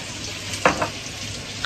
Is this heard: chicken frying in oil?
yes